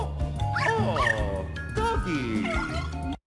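A cartoon dog in Luigi's Mansion 3 barks and yips in short excited bursts with whimpering pitch slides, set among game sound effects and character voices.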